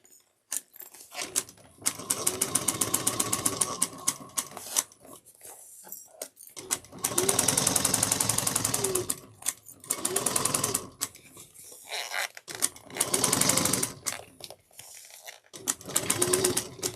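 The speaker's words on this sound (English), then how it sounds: "We're going to sew at a 1/2 inch seam allowance." A sewing machine stitching a half-inch seam with backstitching on a tote bag, running in several bursts of rapid, even needle clatter separated by short pauses.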